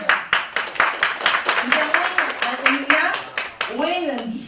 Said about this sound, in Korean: 박수 주세요. 박수 주세요.